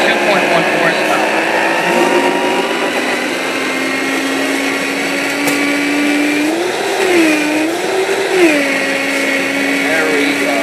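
A high-powered 2.1 horsepower blender whirs steadily at close range, its motor pitch dipping and rising as the load shifts, with a person talking over it.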